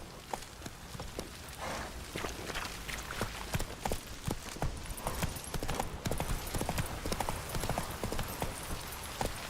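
Roach, the horse in The Witcher 3 video game, moves along with a steady, rhythmic clip-clop of hooves on hard ground, clear and close, with faint background ambience.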